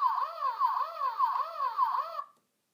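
A toy fire station playset sounds a looping electronic siren, rising and falling wails repeating about five times loudly and close, then cutting off abruptly.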